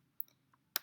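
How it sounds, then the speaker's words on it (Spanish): A single crisp computer mouse click on a quiet desk, sharp and short with a fainter tick just before it, heard alone without talk. "Es preferible dar clic sobre la letra."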